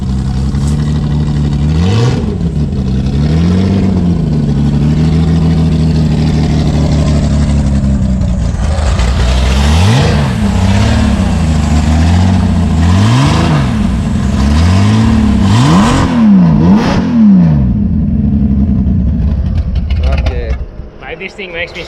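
A car with a blown alcohol engine revs loudly and repeatedly while driving, the pitch rising and falling in close, harsh sweeps, then cutting off abruptly near the end.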